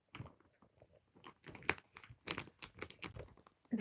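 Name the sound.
crunchy chewing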